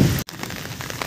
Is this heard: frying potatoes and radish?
no